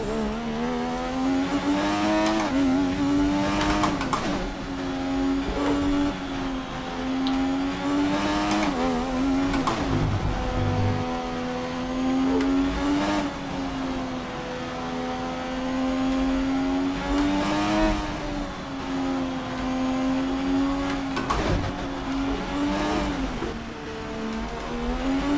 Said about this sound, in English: So we're in an 88 McLaren going around Japan short circuit